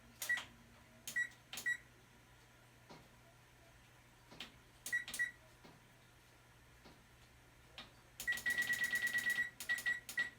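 Oven timer being set to 25 minutes in a home kitchen while baking Jiffy cornbread: a series of short electronic beeps at irregular intervals, then a rapid run of beeps near the end, in a quiet room.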